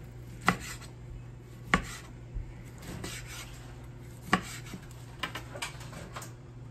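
Knife slicing into a rested caveman steak grilled directly on coals, topped with chimichurri: a few separate soft cutting strokes with sharp clicks of blade meeting board, spaced a second or two apart over low background hum.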